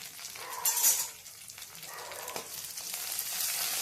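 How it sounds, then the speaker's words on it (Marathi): Cumin, coriander, and a crushed chili-garlic paste sauté in hot oil with a steady close sizzle, broken by a few louder stirring scrapes and clatters against the pan. "जिरे टाकायचे, कोथिंबीर टाकायची आणि मिरची, लसणाचा ठेचा टाकायचा आणि हे परतून घ्यायचं चांगलं"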